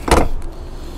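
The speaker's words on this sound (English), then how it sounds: "you can fold these seats down just by pulling the handle like that" Rear seat of a 2018 Chevrolet Equinox folded down by pulling its handle, a single short close thump and latch clatter followed by faint interior quiet.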